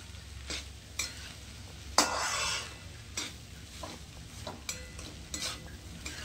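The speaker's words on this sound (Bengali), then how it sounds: "একটু নাড়িয়ে নিয়ে বেশিক্ষণ ভাজবো না, ফুল ফ্লেম দিয়েই" A rice mix is stirred and fried in a pan over full flame: repeated close spatula scrapes and clinks ride over a low, steady sizzle, with no one talking.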